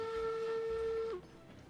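A single long steam-style train whistle blown in a railroad video game, one steady sustained tone lasting about a second before cutting off, loud and close over a faint background hum, no talking.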